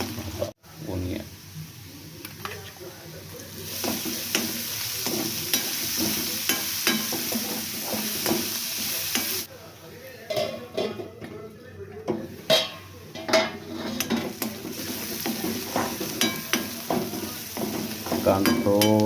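Onion frying in a pan for potato poha, a continuous sizzle with scraping stirs and occasional clinks of utensil on pan, a voice talking intermittently over it.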